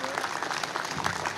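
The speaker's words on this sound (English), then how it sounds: "Give yourself a round of applause for coming out today." Audience applause at a Tank Davis vs Lamont Roach boxing press conference at Howard University in DC, a steady dense wash of many hands clapping with a voice talking over it throughout.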